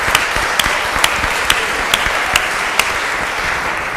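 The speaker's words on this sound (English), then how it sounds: "I think we should just give a round of applause to Joseph" Symposium attendees applaud an organizer named Joseph, continuous crowd clapping throughout, with one nearby pair of hands striking loud, regular claps about twice a second over the wash.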